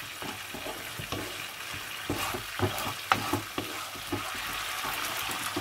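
Chilli chicken ingredients with ketchup being mixed and fried in a pan over a high flame: a constant sizzle under repeated scraping and clacking stirs, close and moderately loud.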